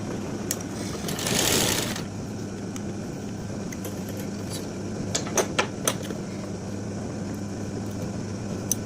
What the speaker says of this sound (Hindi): एक सिलाई और मारेंगे यहाँ पर इसके बीच में,